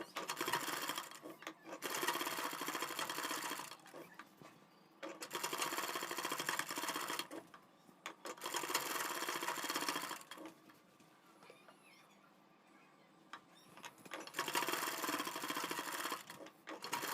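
A sewing machine stitches net onto blouse piping in close, loud bursts of rapid whirring, running for a couple of seconds at a time with short pauses between runs.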